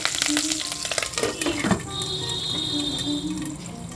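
Curry leaves, black mustard seeds and dried red chillies frying in hot oil, giving a steady, busy sizzle with spitting crackles and a few metallic scrapes of a spoon or lid.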